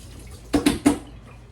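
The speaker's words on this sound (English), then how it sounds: "wash my hands once again" Water splashes from a running tap while hands are washed during home cooking, with three short, close bursts of splashing over about half a second and quiet around them.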